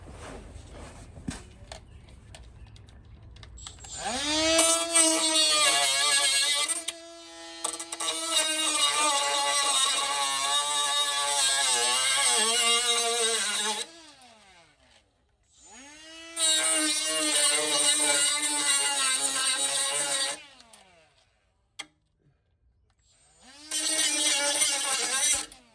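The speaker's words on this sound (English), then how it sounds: "see if I can grind the spot weld out and see if that makes it so I can pull it off." An angle grinder cuts out a spot weld on a rusty Rialta RV panel in four loud, close bursts of high, whining metal grinding, with the pitch wavering under load and short quiet gaps between passes.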